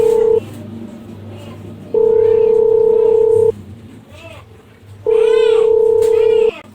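Telephone dialing sounds as two long, loud dial tones separated by a quieter gap, with a few brief beeps in between and speech-like chatter underneath.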